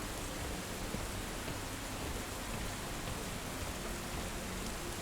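Steady rain hisses in an underground cave in the game Deep Rock Galactic, a dense, even wash of drops with no breaks, moderately quiet and heard alone.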